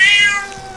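A single cat meows in the video game Ding Dong Dead, one short, clear, fairly loud meow that fades out, with no talking.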